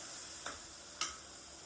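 Ginger, garlic and tomato paste cook softly in a pan with a steady, faint hiss, broken by two light utensil taps.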